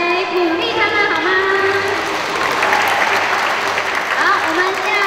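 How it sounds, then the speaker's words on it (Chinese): An audience at a scripture-reading exam awards ceremony breaks into loud, sustained applause that carries on for several seconds, with a voice talking over the clapping. "我们再一次用掌声来鼓励他们，好吗？"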